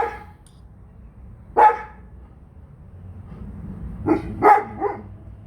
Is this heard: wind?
no